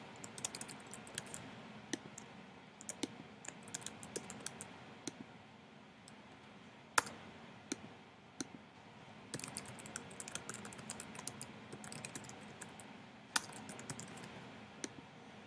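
Typing on a computer keyboard to fill in teacher account details, a close, quiet run of irregular key clicks with short pauses and occasional sharper taps.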